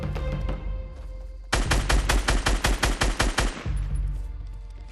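Rapid burst of assault rifle fire from the Fortnite video game, about a dozen sharp evenly spaced shots over two seconds, loud and close, set against steady game background ambience.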